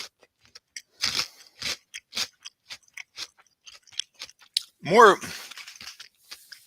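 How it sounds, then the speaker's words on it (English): Close, crisp crunching as someone bites and chews a chocolate candy with a dark chocolate shell and a wafery gingerbread centre, irregular sharp crunches, with a brief spoken word partway through. "But this kind of crunchy, wafery inside, that's the gingerbread"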